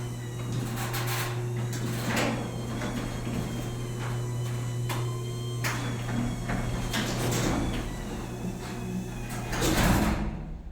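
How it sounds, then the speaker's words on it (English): A Chamberlain B970C garage door opener closes the garage door with a steady motor hum and rolling, rattling movement that continues throughout and swells slightly near the end. "So it's pretty useful so that you know if the garage door opens and closes as well."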